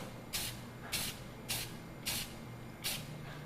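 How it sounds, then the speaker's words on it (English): Spray paint can spraying coats onto a screw held at an angle, five short loud hissing bursts evenly spaced over a quiet background. "held onto the screw at an angle so I can spray paint it"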